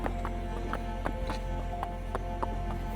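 A young filly's hooves clop in a slow, uneven rhythm over a steady low hum, with faint shuffling movement between the steps.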